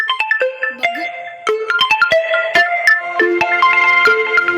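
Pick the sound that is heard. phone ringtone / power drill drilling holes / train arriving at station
phone ringtone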